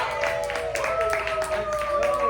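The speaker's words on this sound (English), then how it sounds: "Round of applause, y'all." Audience applause on a dating show set, a dense wash of clapping heard beneath overlapping voices and a steady tonal hum throughout.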